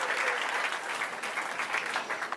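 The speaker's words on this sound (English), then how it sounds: "There's Hazel cheering him on." Crowd at a PBA bowling stepladder final cheering and applauding, a dense rolling wash of many clapping hands with some voices mixed in, sustained and fairly loud throughout.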